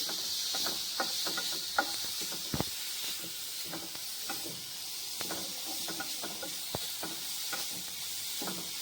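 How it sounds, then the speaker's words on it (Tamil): Carrot sautéing in a pan for a carrot kheer, giving a steady close hiss and sizzle throughout with scattered soft clicks and stirring scrapes, one sharper knock near the middle, and no talking. "நல்லா சூப்பராக வதங்கிடுது பாருங்கள்"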